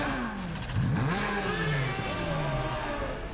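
A Porsche 911 GT3 RS engine revs and shifts pitch while drifting in a racing video game, with a rising and falling mid-range whine over steady noise.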